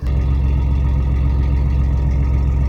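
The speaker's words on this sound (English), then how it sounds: "Listen to that idle." An off-road vehicle engine idles steadily and loudly up close, a continuous low rumble without revving or speech.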